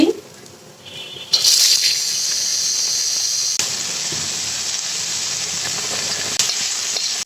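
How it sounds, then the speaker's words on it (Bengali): Raisins, cardamom and cinnamon fry in ghee for Eid-style zarda semai, a sweet vermicelli dish; a loud, steady sizzle bursts in after a quiet moment and hisses continuously, with a faint clink partway through. "এখানে দিব কিশমিশ, এলাচ, দারচিনি, দিব একটু ঘি"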